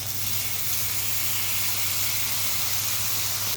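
Chopped garlic and onion fry in a hot pan for an evening snack with roti, giving a loud, steady hiss and sizzle that holds evenly throughout with no talking.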